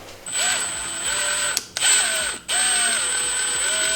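A Milwaukee power tool whirs steadily while someone wrenches on a 07K engine, the motor running continuously apart from two brief pauses.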